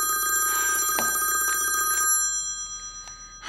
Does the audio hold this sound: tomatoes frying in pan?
no